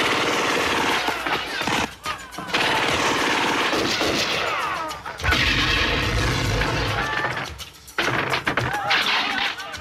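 A chaotic gunfight from Hard Boiled and Stranglehold: loud, dense bursts of machine-gun fire mixed with shattering debris as the surroundings are blown apart, almost nonstop with a few brief pauses.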